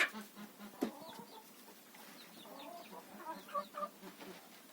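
Chickens cluck softly inside a closed coop during a hard winter frost, with scattered short calls and a few sharper squawks, fairly faint and close.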